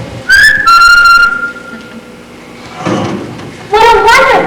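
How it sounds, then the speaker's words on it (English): A person whistles a few sustained, sliding tones near the microphone in short phrases, separated by quieter gaps with a faint thud, then a longer warbling run of whistled notes at the end. "I'll whistle down the road, just to be sure a grabbing vine hasn't snagged him"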